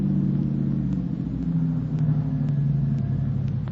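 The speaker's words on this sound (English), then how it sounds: "Might be this car coming." A car approaching as a radio drama sound effect, a steady mid-low engine rumble that holds throughout at moderate loudness, with no voices.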